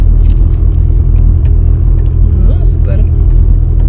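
A car engine labours with a heavy, low, continuous rumble while being driven slowly along a country road. It is loud and close throughout, with people talking over it.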